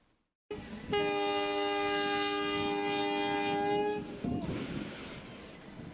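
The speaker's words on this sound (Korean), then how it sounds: "개통식과 함께 무궁화호 열차가 기적을 울리며 서서히 움직입니다" A Mugunghwa passenger train at the opening of the Donghae Line between Pohang and Yeongdeok sounds a long, loud, sustained horn blast as it slowly departs, followed by rumbling rail noise.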